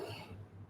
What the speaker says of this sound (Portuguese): Desculpem a tosse,